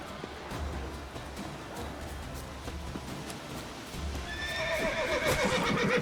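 In the video game Witcher 3, hooves clip-clop steadily, then a horse lets out a loud, shaky whinny near the end.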